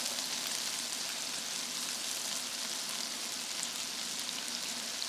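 Asian-inspired turkey meatballs searing in a hot pan, a steady, dense sizzle like light rain that holds evenly throughout with no talking.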